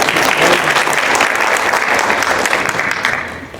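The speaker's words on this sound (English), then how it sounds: "Give her a round of applause." Audience applause at a live community event in Shreveport, dense sustained clapping from a crowd filling the room at moderate loudness and tapering off near the end.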